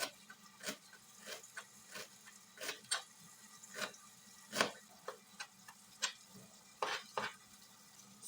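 Garlic fries in a pan, browning, with a soft, faint sizzle broken by irregular clicks and scrapes of stirring through the whole stretch.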